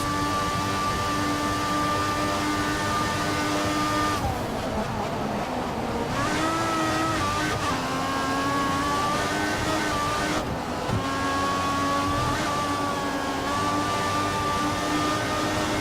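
Formula 1 engines from the F1 2014 racing game scream at high, steady revs, dipping briefly on gear shifts and braking before climbing again, loud and continuous throughout.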